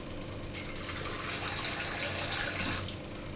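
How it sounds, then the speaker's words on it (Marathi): Water pours steadily in a single hissing stream for a few seconds, close by, into rava batter, then stops. "1 कप पाणी ॲड करते मी"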